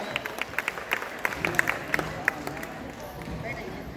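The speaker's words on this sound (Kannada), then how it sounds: "ಇವರಿಗೆ ಜೋರಾದ ಚಪ್ಪಾಳೆಯೊಂದಿಗೆ ಸ್ವಾಗತಿಸೋಣ" Audience applause at a women's association honoring ceremony at a music academy event, a steady wash of crowd clapping with scattered sharper claps, moderately distant and filling the hall.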